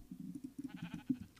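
Sheep bleating in the Minecraft video game, a quick series of short nasal bleats from a few gray, black and white sheep, close and fairly soft, with no talk over them.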